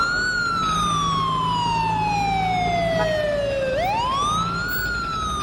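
An ambulance siren passes through traffic, wailing loud and close in one long falling sweep that then climbs again, with steady road and engine rumble underneath.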